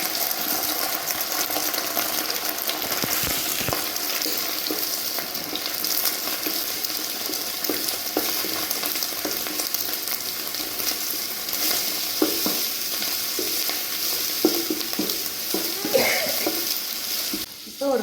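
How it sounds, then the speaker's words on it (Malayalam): Four eggs frying into an omelette in a pan for noodles, a steady close sizzle with occasional clinks and scraping stirs running through the whole stretch. "ഒരു 4 മുട്ട ഇടും. ഇതിൽ ആംലെറ്റ് ആക്കുക."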